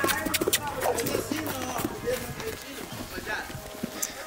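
Horse hooves clip-clop on a farm, quick and uneven, while people talk loudly over the steps close by.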